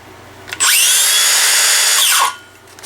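Cordless Makita drill running on an original Makita battery, its motor whining up to full speed, holding a steady high-pitched spin for about a second and a half, then winding down, loud and close with no voices.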